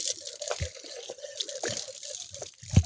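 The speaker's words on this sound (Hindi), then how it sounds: "पानी आ रहा है, टपक रहा, यानी नल चालू होगा।" Water drips from a tap in a village, a few irregular drops and faint trickling over background noise outdoors.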